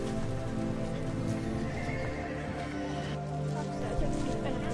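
New Forest ponies at the Beaulieu Road Auction Yard pony sale, their neighs and hoof clops blending into a dense, busy crowd din that stays loud and steady throughout.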